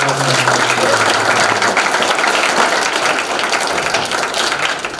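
An audience at a seminarian retreat applauds: dense, steady clapping from many hands fills the room, close and loud, with no letup from start to finish.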